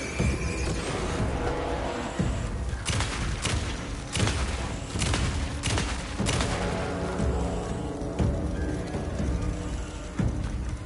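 Gunshots in the video game Alan Wake II, a series of sharp, separate shots fired at irregular intervals over a dense background of game ambience, fairly loud and close.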